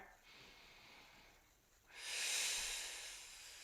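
A slow, deep breath during a strength flow class with weights, a soft inhale rising into a louder, airy exhale that trails off, close up with no talking.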